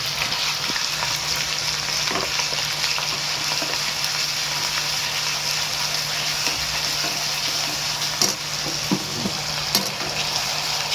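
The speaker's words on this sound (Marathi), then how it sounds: "कढीपत्ता टाकल्यानंतर आपण टाकणार आहे कलेजी, वाटण." Goat liver sizzles and fries in a pan with curry leaves and ground masala paste, a steady loud crackling hiss with occasional stirring scrapes, no voices.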